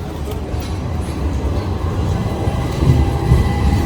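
A tram in Istanbul rumbles past about half a metre away, a heavy low roar building steadily louder, with faint crowd murmur around.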